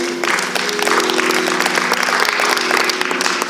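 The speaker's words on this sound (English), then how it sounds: "let's give a round of applause for Alderman Sawyer at this time" An audience at a church-hosted Raise the Wage forum breaks into sustained applause for Alderman Sawyer, dense clapping from many hands over a low steady hum, carrying through to the end.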